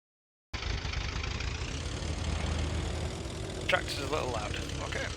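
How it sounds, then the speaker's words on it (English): Tractor engine in a farming game, a steady mid-pitched idling drone that starts abruptly and holds constant, with a brief voice breaking in near the end. "tractor's a little loud"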